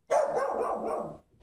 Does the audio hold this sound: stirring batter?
no